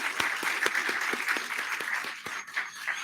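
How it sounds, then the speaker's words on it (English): A small audience applauds for three presenters at the end of a program, with steady, moderately loud clapping that holds for a few seconds and thins slightly toward the end. "Let's give a round of applause to our 3 presenters today."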